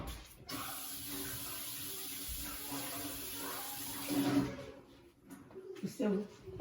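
Rib tips rinsed under a running kitchen tap, a steady broadband hiss of flowing water that surges and breaks up near the end, with faint background voice.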